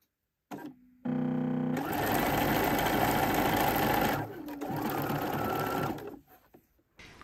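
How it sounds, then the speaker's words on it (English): A sewing machine zigzag stitching fabric starts up and runs in a fast, rattling whir, pausing briefly midway before continuing, then stopping. "I have my sewing machine set to zigzag."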